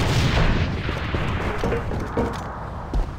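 Grenade blast in the shooter game AVA: a heavy booming explosion up front, followed by rumbling debris and scattered gunfire-like cracks, loud and close with a thump near the end.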